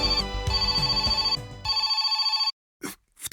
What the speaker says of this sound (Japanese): のりこから電話が来た。